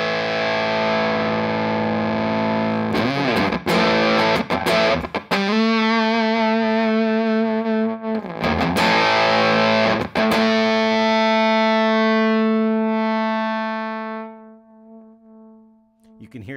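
Electric guitar played through a Matthews Effects Whaler fuzz pedal, loud and heavily distorted, with a few short bursts followed by long sustained single notes that thin out and break up as they fade over the last seconds.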